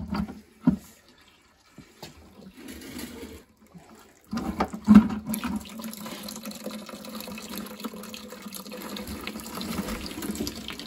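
Water draining from a flooded Burnham Independence steam boiler into a bucket, a steady splashing pour that starts after a few brief bursts and then runs continuously at close range.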